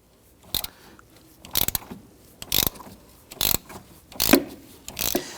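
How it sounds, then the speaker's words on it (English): A ratchet loosens a 12mm bolt on the starter of a 2011-2015 Kia Sorento, giving six or so sharp bursts of close clicking at a steady back-and-forth rhythm, with quiet pauses between strokes and no talking. "or you can use your ratchet like I'm doing"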